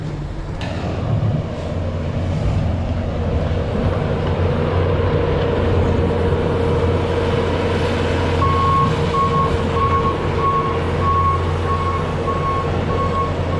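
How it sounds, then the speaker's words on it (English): A truck idles and moves near a barn on a snowy farm, its low engine rumble steady throughout, with regular reversing beeps starting partway in and repeating evenly. "I'm gonna move the truck so we can get up close to the barn with the skid steer there"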